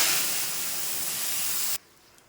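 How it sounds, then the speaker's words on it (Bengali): Mustard-seed tempering poured into a pot of dal gives a loud, dense hiss and sizzle that holds steady for almost two seconds, then cuts off abruptly into near silence. "তো দেখো ডালটা কিন্তু আমি ফোড়ন দিয়ে দিয়েছি অলরেডি"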